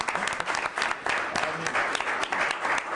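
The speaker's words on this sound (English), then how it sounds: "You can clap for Rich" Steady applause from a crowd at a town council meeting, clapping throughout, loud and dense, with scattered voices mixed in.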